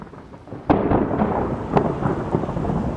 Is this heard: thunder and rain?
yes